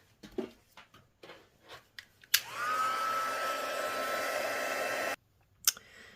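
A hair dryer blows steadily for about three seconds to dry wet paint on a stamped card. It starts abruptly and cuts off cleanly, with small handling clicks and taps before and after.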